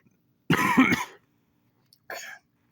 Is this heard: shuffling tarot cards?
no